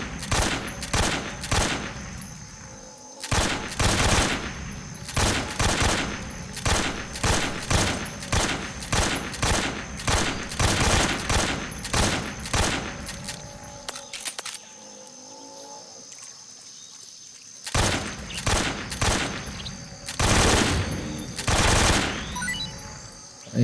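Repeated bursts of gunfire in Metal Gear Solid Snake Eater ring out in loud, evenly spaced shots, with a short quiet stretch partway through before firing resumes.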